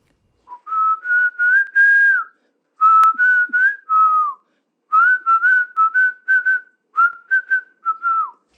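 A person whistles a short tune in clear, close phrases, a series of bright sustained notes with brief pauses between groups, with no other sound around them.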